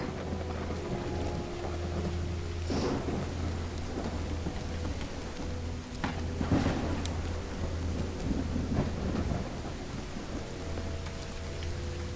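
Heavy rain pours steadily in the Call of the Elder Gods game, with a low droning hum beneath and a few sharp thunder cracks and rumbles breaking through the downpour.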